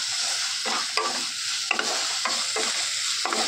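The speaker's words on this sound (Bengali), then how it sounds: "এই যে মাছটা দিয়ে দিয়েছি, মাছটা দিয়ে একটু নাড়াচাড়া করবো" Puti fish and red amaranth greens being stirred in a hot pan, with repeated scraping strokes of the spatula over a soft, steady sizzle and no talking.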